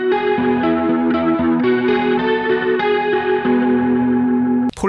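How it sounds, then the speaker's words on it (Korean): An electric guitar plays ringing arpeggiated notes through a swirling rotary modulation effect from a Boss GX-100 multi-effects unit, sustained and shimmering, ending with a brief noisy click. "로터리 이펙트는 모듈레이션 중에 제가 좋아하는 계열인데요"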